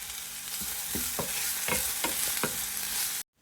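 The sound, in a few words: onions and chillies frying in a pan for Andhra mutton curry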